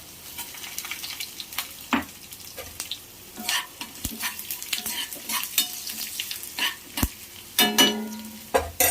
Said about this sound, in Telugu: చారు కూడా అయిపోయి తాలింపు పెట్టేద్దాం